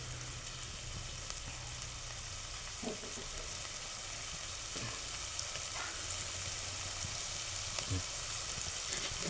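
Onion sautéing in a pan over a low flame, a steady soft sizzle and frying hiss throughout with a few light utensil taps.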